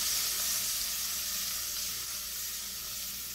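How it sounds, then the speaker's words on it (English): Bacon, onion, paprika and oregano sizzling in a pan as they are stirred, a soft steady frying hiss with faint scraping, quiet and alone. "And then I'm going to stir this around a little bit."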